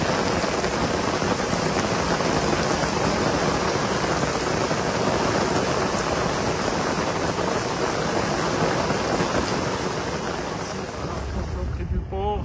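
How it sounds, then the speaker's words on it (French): Heavy rain from a thunderstorm pounds down near a port in Fethiye, a dense, loud, unbroken hiss of drops drumming on surfaces close by, easing slightly at the very end. "À Fêtier, on est dans un orage."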